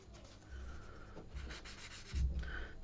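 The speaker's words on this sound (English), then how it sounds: "let's just try out the sanding sponge as well, see how this performs" A sanding sponge rubbed by hand over a surface being prepped, giving close, dry scratchy strokes in several short bursts over a few seconds.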